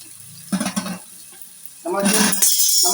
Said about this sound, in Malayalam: നമുക്ക് ജസ്റ്റ് ഇളക്കി കൊടുക്കാം.